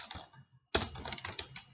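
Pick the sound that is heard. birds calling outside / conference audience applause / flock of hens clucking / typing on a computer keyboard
typing on a computer keyboard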